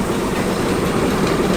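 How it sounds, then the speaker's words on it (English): Steam locomotive in the Century of Steam railroad game with water running through its engine, a steady rumbling, rushing churn with rhythmic clatter, loud and continuous throughout, no talking. "that's the sound of water running through the engine"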